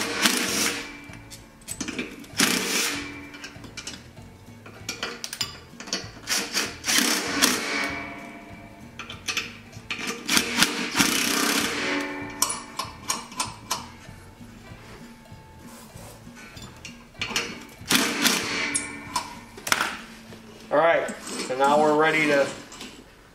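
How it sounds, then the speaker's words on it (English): Bolts coming off a lawn mower with a 3/8 socket, heard as close metallic ratcheting, clanks and tool knocks in irregular bursts, with someone talking over much of it. "So I'm going to have to take these bolts out because those are the little belt guys. So let me get a 3/8 socket."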